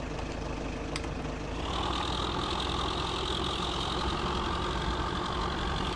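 A farm tractor in Farming Simulator 15 idles steadily with a continuous low engine drone that swells slightly partway through, with no talking.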